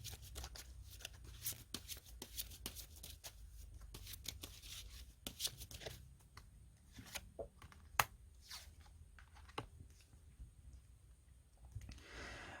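Rapid papery riffling and soft clicks of cards being shuffled, close up, in repeated bursts with brief pauses, no talking.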